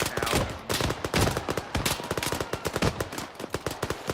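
Dense bursts of automatic gunfire rattle steadily against soft targets in a military video game, with rapid repeated shots and a faint voice underneath.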